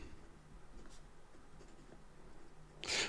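A fountain pen with a broad stainless steel nib, a Michael's Fat Boy, writes on paper with faint, steady scratching, then a sharper, louder scrape near the end.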